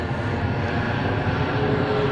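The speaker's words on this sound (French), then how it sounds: "l'avion passe" An airplane passes overhead with a steady, loud broadband engine roar that fills the whole moment without rising or fading, and no voices are heard.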